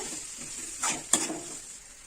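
A spoon stirs a horse gram chutney mixture in a pan, giving two quick scraping strokes close by over a faint background sizzle.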